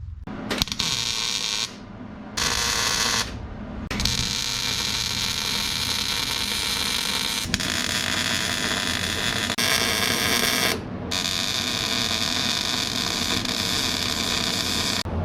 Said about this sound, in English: we're gonna get these guys welded in on both sides